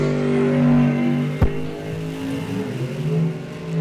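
Box dragster race cars launch in a doubles pairing at a drag race. Their engines hold a loud, steady harmonic drone, a sharp crack cuts through, and then the revs rise and waver. No one speaks.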